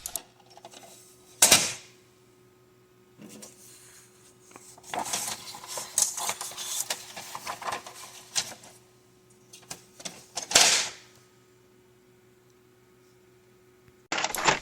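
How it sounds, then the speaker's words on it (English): Plastic clicks and scraping clatter as a paper tray slides into a Brother inkjet printer, with two sharp knocks and quiet mechanical rattling between them. "Insert the tray back into the machine"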